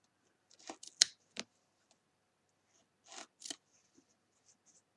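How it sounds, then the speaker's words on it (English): Scissors make a few quiet, close snips through the centre of a wound yarn pom pom on a pom pom loom, in two short bursts separated by a pause. "you just snip carefully through the centre"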